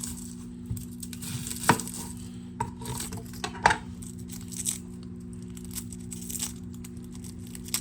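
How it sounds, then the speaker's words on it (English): A sharp knife cuts up onions that are starting to go bad on a hard surface, giving scattered single knocks and chops with quiet gaps between them against a low background hum. "we'll cut up the onion, I guess."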